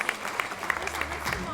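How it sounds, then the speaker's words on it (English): Applause for honorees at the Women to Watch China Gala 2013 in Shanghai, a steady patter of many hands clapping in a large room, with some voices underneath. "Please help me give them a big round of applause."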